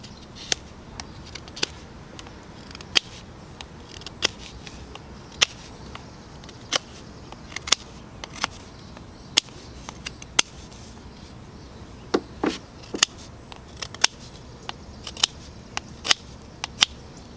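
Knife blade slicing willow branches to make garden stakes, a series of sharp, brief snicking cuts spaced irregularly, fairly close and crisp against a quiet background.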